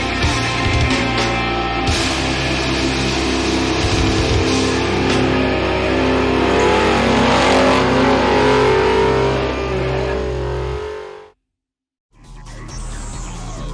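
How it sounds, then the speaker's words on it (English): A Holden Commodore revs hard while doing skids, giving a loud, sustained engine roar with tyre noise that rises and falls. The roar cuts to near silence for about a second near the end, then resumes. "Basically just going to keep doing some skids in it and having fun the way I have been so far."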